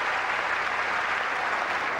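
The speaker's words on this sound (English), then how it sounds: "That gets a little more generous applause from the crowd." A tennis crowd at the 2004 Australian Open applauds an ace, a steady wash of clapping for two seconds with no talk over it.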